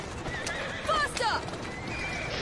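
A horse in Assassin's Creed Syndicate gives a sharp whinny over steady clip-clop galloping hooves, fairly quiet beneath game background noise.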